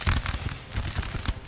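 Cannon fire in the Napoleon Total War game, a rapid series of sharp booming blasts and cracks clustered together, loud and close, with no talk over it.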